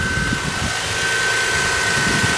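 A 2000 Toyota Sienna XLE's 3.0 liter V6 idles with a steady, close mechanical hum and a faint high whine, alone without talk.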